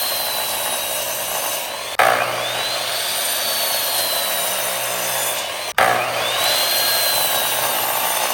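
A power saw cuts natural wood chunks into smaller pieces for a smoker, a loud continuous whining drone broken twice by brief drops as the blade pauses and bites again, close by.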